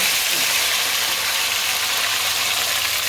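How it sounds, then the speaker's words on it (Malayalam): Boiled prawns sizzle steadily in hot coconut oil with curry leaves for prawn pickle, a dense continuous hiss, close and fairly loud throughout, no talking. "അപ്പോൾ നമ്മൾ ചെമ്മീൻ വറുക്കാനായിട്ട് വെളിച്ചെണ്ണ ഒഴിച്ചിട്ടുണ്ട്."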